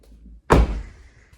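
A Ford F-150 work truck's interior door panel is pressed back into place, a single firm plastic thunk that snaps on and fades quickly.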